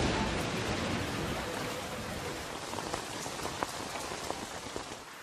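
Rain falls steadily, a dense even hiss of drops striking a surface with scattered louder splashes, heard alone and fairly close.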